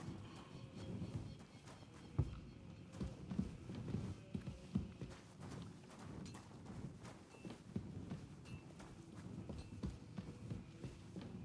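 Horse hooves clip-clop at a walking pace in the medieval role-playing game Kingdom Come Deliverance II, soft irregular thuds over low ambient noise.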